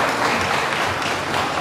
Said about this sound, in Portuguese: Keila Nascimento, recebemos aplausos da nossa plateia